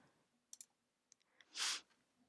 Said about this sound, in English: So let's click Finish.